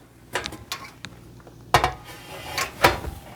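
A roasting pan is set down on a dish in a sink: a series of close metallic clanks and knocks, two sharp ones standing out, with softer clatters in between.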